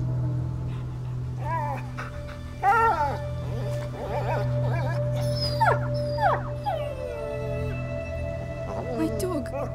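Dog whimpering and whining in a Plague Tale: Innocence cutscene, with rising high whines coming in short bursts over a steady low hum and background game sound, and voices murmuring underneath.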